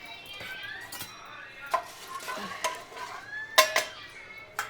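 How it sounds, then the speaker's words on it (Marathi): Garlic tempering in a little hot oil in a home kitchen, with a metal spoon scraping and clinking against the pan in several sharp strikes over a faint, low sizzle. "लसूणची फोडणी दिली आहे थोडंसं तेल टाकून"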